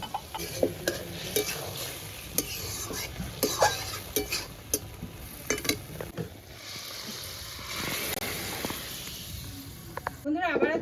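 Curry with cumin paste stirred in a kadai, repeated clinks and scrapes of a metal spatula against the pan over a continuous sizzle, with a person talking in places.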